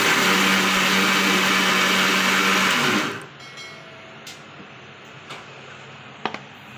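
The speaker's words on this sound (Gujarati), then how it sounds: "ને હવે આપણે મિક્સર જારમાં લઈ લઈએ અને આપણે પીસી લઈએ." A mixer grinder runs loud and steady, grinding cooled pieces of muthiya into fine powder for homemade ladoo, then cuts off abruptly after about three seconds, leaving a few faint clicks and taps.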